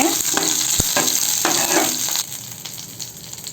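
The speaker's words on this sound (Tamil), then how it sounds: "கறிவேப்பிலை சேர்த்துட்டு இது போல் ஒரு நிமிஷம் வதக்கி விடுங்க" Curry leaves sauté in a pan for peanut chutney, giving a bright, continuous frying sizzle with a few sharp crackles and stirring sounds. The sizzle eases off somewhat partway through.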